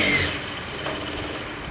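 A sewing machine stitches the shoulder seam of a blouse with a short, steady mechanical whirr heard close up for under two seconds.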